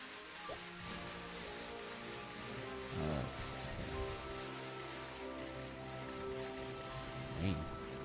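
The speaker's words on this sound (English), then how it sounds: "Was it always raining here?" Soft rain falling in Pokémon Shield's Crown Tundra area, a faint steady patter beneath sustained tonal game music, with occasional slightly louder swells.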